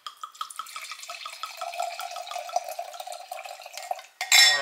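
Liquid pours steadily into a glass up close, a bubbly trickle that rises in pitch as the glass fills. It ends with a brief clink.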